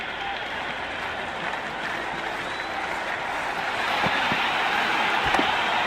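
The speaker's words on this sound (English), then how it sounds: "There's a buzz, a real buzz coming from the stands." A steady, broad roar of spectators in the stands during a simulated South Africa versus Pakistan match in Cricket 26, swelling slightly toward the end with no clear talk over it.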